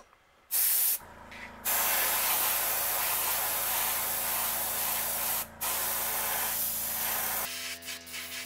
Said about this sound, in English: we're going to go ahead and spray the whole back of this black